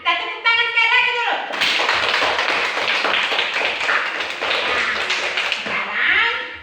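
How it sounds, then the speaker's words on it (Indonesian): A classroom of pupils clapping their hands together in a dense burst of applause, following a teacher's brief speech and fading as her voice returns at the end. "Kita tepuk tangan sekali lagi dulu."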